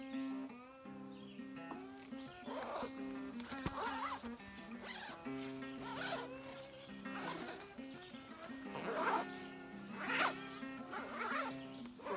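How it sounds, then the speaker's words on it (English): A sticky tent zipper, eased with chapstick, is run up and down repeatedly on a canoe camping trip in Algonquin, giving close, quiet zipping strokes in an uneven rhythm. "I'm going to take some chapstick and just run it up and down the zipper"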